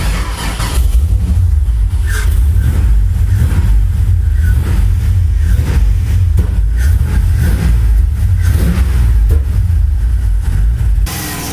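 A Nissan S14 with a swapped 5.3-litre LS V8 runs loud and steady, a deep low rumble held for about eleven seconds before it cuts off abruptly.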